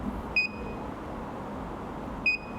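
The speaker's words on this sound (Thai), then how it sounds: "ก็จะมีเสียงปี๊บก็คือตามจำนวน แซมปิ้งที่เราตั้ง ก็คือทุกๆ2วิ เสียงก็จะดังทุกๆ2วินะครับ" A Lutron VC-9210SD vacuum gauge logging data emits two short, clear electronic beeps about two seconds apart over a faint steady background hum.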